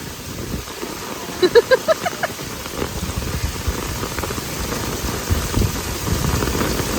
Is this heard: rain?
yes